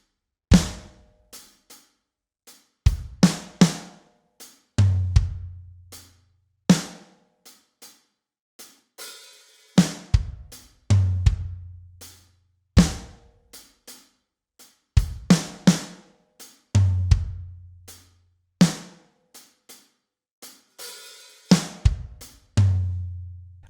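A drum kit plays a groove, a steady repeating pattern of punchy kicks, snare hits and cymbal or hi-hat strokes with deep booming tom accents, loud and close with no talk.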